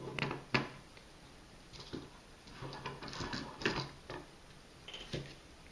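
A NEEWER GM32 low-profile ball head being screwed onto a small carbon fiber tripod by its 3/8 inch mount, giving quiet, irregular mechanical clicks and ratcheting ticks close by.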